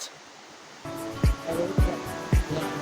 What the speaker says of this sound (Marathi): इथन पाणी वाहत आहे आणि धबधबा आहे तो हित बघू शकता आवाज बघा आवाज